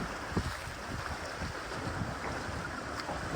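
Steady wind rushes over a sailboat in roughly 15-knot winds with small two-foot waves, with a continuous broadband roar and faint splashes underneath.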